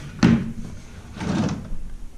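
A kitchen drawer holding cutlery in a rented apartment slides open, a sharp knock followed by a softer rolling slide about a second later, close and fairly quiet with no one talking.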